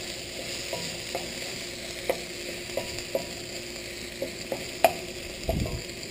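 Chopped onion frying in a pan until translucent, a steady soft sizzle with repeated light clicks and taps from stirring.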